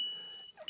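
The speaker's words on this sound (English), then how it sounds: "also help maybe with the fire alarm." A fire alarm gives a single steady electronic beep, a thin tone that holds and then cuts off, fairly faint and short.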